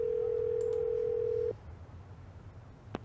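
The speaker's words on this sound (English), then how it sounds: "You do actually dial the phone in this game." A steady, loud dial tone on a phone in a mystery video game cuts off abruptly partway through. A short beep follows, then a quiet, faint click near the end over low background hiss.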